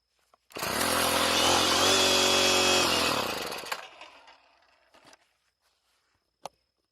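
A 4-stroke weed eater engine burning alcohol fuel roars loudly for about three seconds and then dies away, leaving a few faint clicks and one sharp tap in the quiet after.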